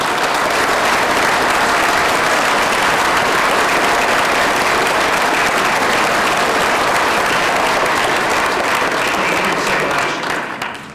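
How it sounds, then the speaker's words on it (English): A public lecture audience gives sustained applause, a loud, even wash of many hands clapping that holds steady for several seconds before fading at the end. "would you please stand for a round of applause"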